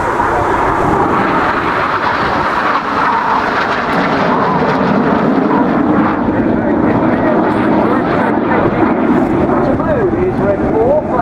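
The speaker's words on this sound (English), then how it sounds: "Now the 5th jet is going to roll around them a dozen times." Red Arrows jets roar through the Twister formation at the Bournemouth Airshow 2015, a loud, continuous engine rush filling the whole stretch, with an announcer talking beneath it.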